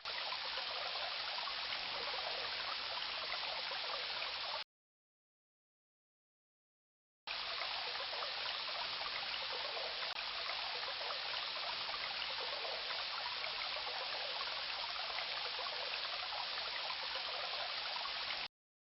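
Raging river in the King's Quest: Quest for the Crown game, a steady rushing water loop with a short silent gap partway through, constant and fairly loud, no voices.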